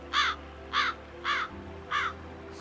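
A crow caws five times in a steady, evenly spaced rhythm, each call clear and moderately loud over a low background hum.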